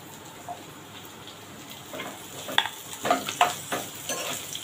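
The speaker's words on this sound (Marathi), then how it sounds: "कांदा आपण चांगला फ्राय होऊ देऊया, ब्राऊन कलर मध्ये एकदम थोडासा लाल होऊ देऊया" Sliced onion fries in oil in a pan for black-eyed peas masala, a steady soft sizzle with a few louder stirring scrapes near the end, close and alone.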